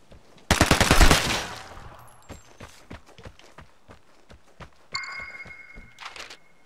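Gunfire in the video game Vigor: a loud burst of rapid automatic shots up front, then a run of sharp single shots and impacts, with electronic tones partway through.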